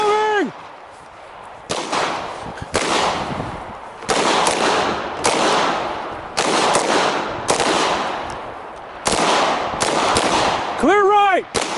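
Gunfire at a shooting drill, a series of loud, sharp reports spaced a second or two apart, each with a long ringing decay, with shouted voices at the start and end.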